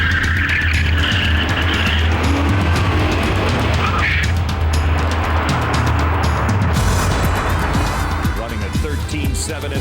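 Loud, continuous engine roar from a 2000 Corvette C5 and a 1995 Corvette C4 drag racing side by side, steady and dense throughout, with a narrator talking over the noise.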